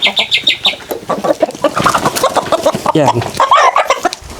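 A Rhode Island Red rooster squawks and clucks loudly and frantically close by while being picked up, with someone speaking briefly over the calls.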